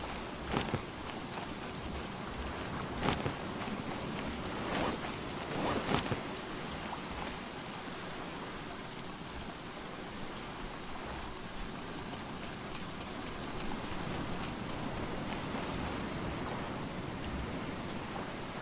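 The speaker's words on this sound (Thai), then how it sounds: "ฝนตกอยู่ตอนนี้ช่วงนี้ลองน้ำเลย" Steady rain pours down on an island in the survival game Stranded Deep, a dense, even hiss broken by a few sharp drop ticks near the start.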